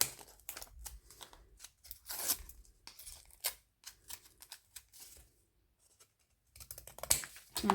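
Scissors trimming paper for a handmade journal, a close, quiet series of crisp snips and paper rustles in irregular bursts, broken by a short silent pause before more cutting.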